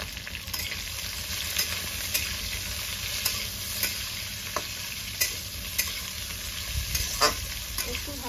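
Garlic, dried red chillies, green chillies and chopped onions frying in hot oil, a steady close sizzle broken by regular soft scraping stirs of a spatula against the pan.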